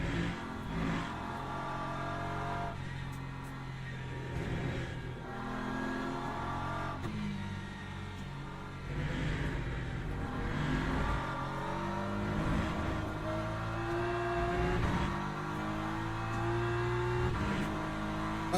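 A race car engine in the racing video game Le Mans Ultimate revs and climbs through gears, loud and continuous, with repeated rising whines as it accelerates.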